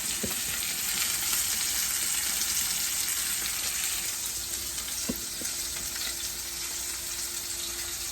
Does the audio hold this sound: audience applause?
no